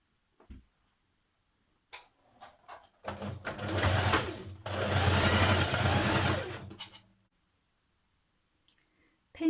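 Sewing machine stitching dress facing pieces together at the shoulder seams, a few short clicks of handling, then two close bursts of rapid whirring stitching of a couple of seconds each, followed by quiet.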